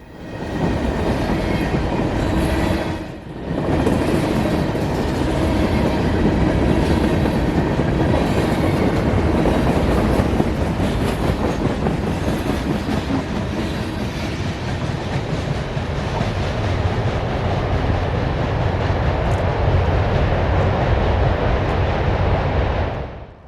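Freight train B218 rolls past on the W&A line in Georgia, a loud, sustained rumble with rail clatter close by that holds steady for the whole passage, briefly dipping once near the start.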